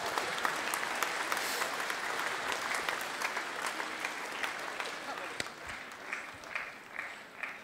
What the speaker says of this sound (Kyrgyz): Кол чаап коюңуздар.